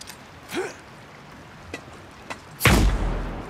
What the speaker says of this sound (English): Chucking the flashbang.